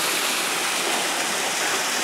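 A shallow, low-water waterfall at Deep Creek rushes in a steady, unbroken wash of falling water, heard fairly close and loud with no voices over it.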